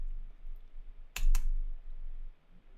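A couple of quick computer-keyboard keystrokes land close together, a short crisp double click against a quiet room while typing Python code.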